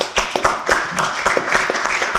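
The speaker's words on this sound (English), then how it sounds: "Round of applause." Brief burst of applause from a small audience right after a startup founder finishes a one-minute pitch to investors, sharp irregular claps close by and fairly loud, lasting about two seconds.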